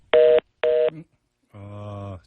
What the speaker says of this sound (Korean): 지금 전화 인터뷰 도중에 전화가 끊겼습니다. 갑자기 삐삐 소리가 나는데